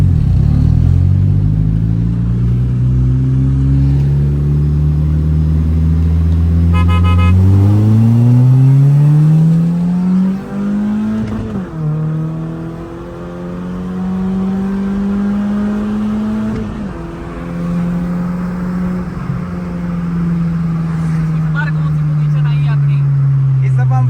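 A tuned Toyota Raize accelerates hard in a drag race. Its engine note climbs steeply, drops briefly at each gear change, then climbs again. It stays loud and close throughout.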